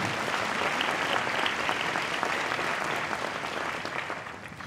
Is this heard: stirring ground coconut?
no